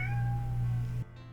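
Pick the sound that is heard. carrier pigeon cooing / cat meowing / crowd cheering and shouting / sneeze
cat meowing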